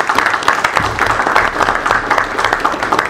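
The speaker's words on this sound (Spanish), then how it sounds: "Así es que démosle un aplauso" An audience applauds a congresswoman before her presentation in Washington DC, steady dense clapping filling the room at a fairly loud, even level with a little crowd murmur beneath.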